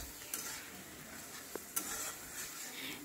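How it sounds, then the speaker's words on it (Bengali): Capsicum being stir-fried in a pan, a faint soft sizzle under a low hiss, with a couple of brief scrapes and taps of a spoon. "ক্যাপসিকামটা দিয়ে একটু ভালো করে নাড়াচাড়া করে নেব"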